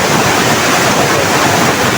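A waterfall in a forest stream roars as a dense, steady broadband rush, loud and close, with no talk over it.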